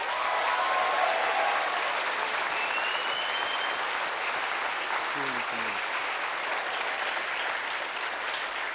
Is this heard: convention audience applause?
yes